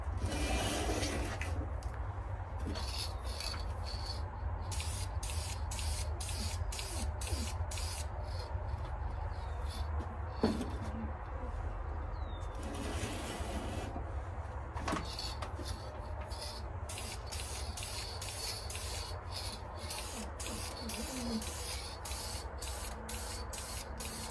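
Aerosol clear coat sprayed onto an intake manifold in repeated hissing bursts with short gaps, a steady close spray over a low background hum and occasional light clatter.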